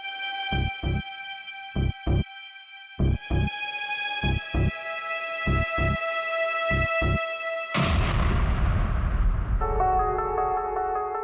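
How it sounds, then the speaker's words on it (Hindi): A laptop explodes in a Hindi TV crime drama scene: a sudden loud blast cuts through sustained dramatic musical tones and pulsing hits, then decays as the tones return. "धमाका"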